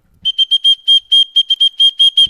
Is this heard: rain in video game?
no